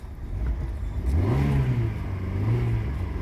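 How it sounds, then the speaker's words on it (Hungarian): An Alfa Romeo MiTo 1.4 MultiAir engine revving, heard from the engine bay: a loud, close rev that climbs, holds and eases off, then rises again over a steady idle. "Na nézzük, hogy ketyeg a motor."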